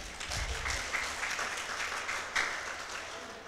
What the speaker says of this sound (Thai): ปรบมืออยู่ที่ไหนครับเนี่ย